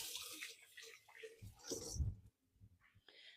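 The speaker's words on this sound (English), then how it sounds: "I'm going to give my hands a quick wash" Hands being washed under running tap water at a kitchen sink during cooking prep, a close splashing, gushing flow that swells and breaks off, with soft rustles around it.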